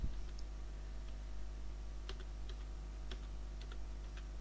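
Light, sparse keystrokes on a computer keyboard as a name is typed, scattered clicks over a steady low hum, fairly quiet and close, with no voices.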